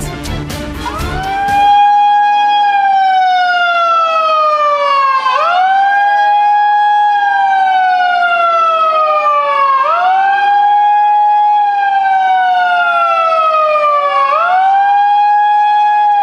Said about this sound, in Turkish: Saat 9'u 5 geçe sirenler çaldı.